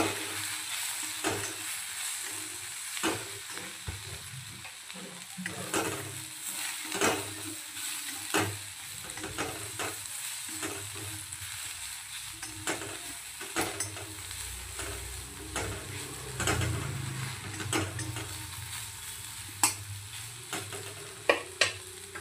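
Besan being stirred into bhindi frying in a pan: a steady sizzle under repeated scraping stir strokes, with a few sharper clinks of the spoon near the end.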